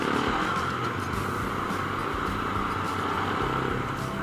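A Honda RC250 motorcycle engine with a drilled, modified exhaust idles and burbles steadily, a loud, continuous, rough rumble close to the microphone with no voices.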